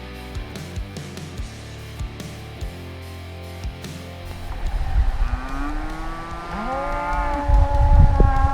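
Cows lowing along the Continental Divide Trail between Anaconda and Lincoln: several drawn-out moos that swell in the second half, loud and fairly near, after scattered thumps and footsteps.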